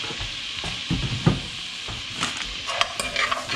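Cooking oil going into a gumbo pot, a gentle sizzle with stirring scrapes and light metal clinks, close and moderately loud.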